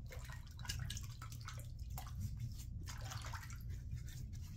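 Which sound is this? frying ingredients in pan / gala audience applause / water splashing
water splashing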